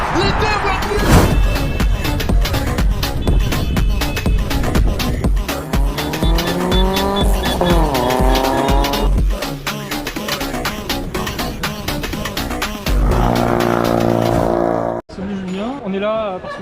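Formula 1 race cars scream past with rising and falling engine whines and sharp tire squeal under braking, loud and close, while an excited commentator talks over the action.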